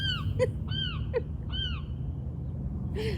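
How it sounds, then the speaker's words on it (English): A seagull gives several loud, repeated cries close by, each a quick rising-and-falling call with short gaps between, over a low background hum. "every time I hear a seagull, look at, he's flying over my yard too"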